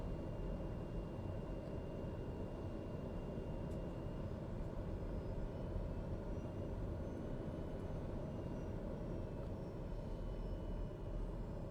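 A simulated aircraft engine in Microsoft Flight Simulator runs at a faint, steady idle: an even low drone with a soft hum, unchanging from start to finish, with no voices.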